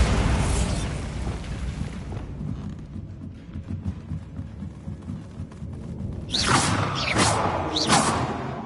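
A Bombarda spell exploding in the video game Hogwarts Legacy: a loud, broad blast at the start that rumbles away, followed later by a cluster of sharp bursts and crackles, with no talk.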